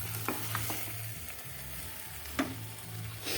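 Masala-coated chicken frying in a pan for Al Faham mandi, stirred with a few sharp scraping clicks over a continuous close sizzle.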